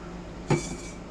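Eggs cracked over a little bowl as meatloaf ingredients come together: a single sharp shell crack lands midway, then a second knock right at the end, with quiet kitchen background between.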